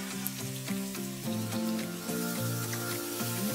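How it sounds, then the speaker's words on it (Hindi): Chopped onion fries in a pan of oil with cloves, cardamom, cumin and cinnamon pieces, giving a steady loud sizzle with faint stirring scrapes throughout and no talking. "तो जब तक ये प्याज यहाँ पर भूनता है ना"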